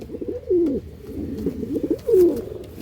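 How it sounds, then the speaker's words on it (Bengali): A breeding pair of Paschima Bhura pigeons coo close by, two clear throaty coo phrases with softer murmuring between them, no talking. "খুবই ভালো কোয়ালিটি পায়রা বন্ধুরা"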